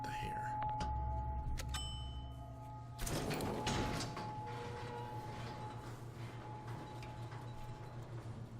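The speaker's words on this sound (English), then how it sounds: "slowest elevators in all of Colombia" A slow elevator ride in the video game Bioshock Infinite: Burial at Sea, a steady low mechanical hum and drone with clanks and a rattling surge partway through, moderately loud and continuous.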